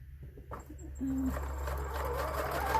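A sewing machine set to a 3.0 stitch length runs briefly while stitching a zipper into heavy upholstery fabric for a chair or sofa cushion, a steady close mechanical hum following a few faint clicks.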